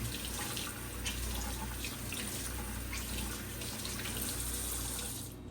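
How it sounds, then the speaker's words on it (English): A kitchen sink tap runs hard as yogurt is rinsed and squeezed out of a cheesecloth, a loud, steady gush of water splashing in the basin that cuts off abruptly at the end. "Let it rinse all the yogurt out of it."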